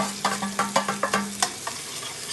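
A spoon scrapes and stirs flour into melted fat in a pot for braised beef with red wine, making about seven quick, rhythmic scraping strokes that fade toward the end, close and clear with no voices.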